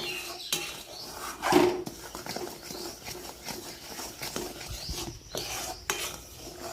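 Boiling jaggery and sugar stirred in a pan for muri moa, with busy scraping and clinking of a spoon against metal over a bubbling hiss, a louder scrape early on, no talk.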